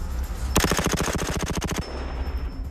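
A French Foreign Legion military rifle fires a long full-auto burst at about fifteen rounds per second, a rapid string of loud, sharp, evenly spaced shots lasting over a second, then stopping abruptly.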